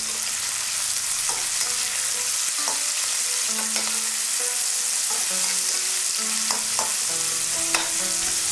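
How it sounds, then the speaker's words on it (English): Onions sauté in a pan with a steady sizzle while a utensil stirs and scrapes them, giving several clinks and knocks against the pan, close and clear with no voices. "this is going to help to add flavors to our onions as they're sautéing. Let's give it a good stir again."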